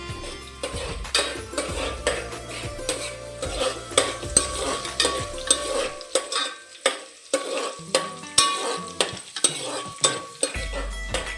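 Hot oil crackles and sizzles as spices temper in it while a utensil repeatedly scrapes and taps a metal pan in quick, uneven strokes, close by.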